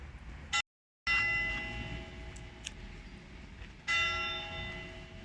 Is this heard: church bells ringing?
yes